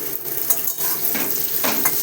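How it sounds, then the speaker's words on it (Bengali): Pointed gourd (potol) sizzles and fries in a pan, with steady hiss broken by a few scraping stirs of a utensil against the metal, close and moderately loud. "ভালো করে ভেজে নিলাম পটলগুলো"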